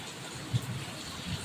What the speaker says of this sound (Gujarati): અત્યારે વરસાદ પણ જો કેટલો બધો ફાસ્ટ પડે છે